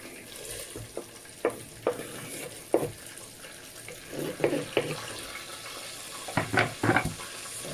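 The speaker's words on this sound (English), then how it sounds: "now we're going to leave the onions to fry" Onions fry quietly in a pan under a low sizzle, with scattered clinks and scrapes of utensils and a few louder knocks toward the end, all in a home kitchen.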